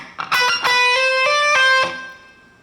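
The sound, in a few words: electric guitar lick with string bend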